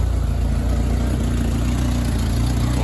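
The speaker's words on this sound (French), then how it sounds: "il y a toujours un bruit de collecteur ou d'échappement percé" A 1995 Peugeot 806 engine idling with a leaking exhaust manifold, a steady loud low rumble with a fast ticking puffing pulse running throughout, close up and without speech.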